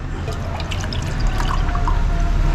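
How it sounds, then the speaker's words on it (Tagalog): Water pours steadily into a spiral dough mixer while cheese donut dough is prepared, a continuous close splashing trickle lasting a few seconds with no talk. "Tubig."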